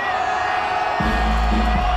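A large crowd roars and cheers in front of the PlayStation stage at Paris Games Week 2014, a dense, continuous wash of voices filling the hall, with a deep rumble swelling halfway through.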